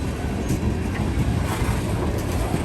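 Heavy freight train locomotives labor on wet rails, a dense, steady rumbling roar with rolling wheel noise, close and continuous throughout with no talking.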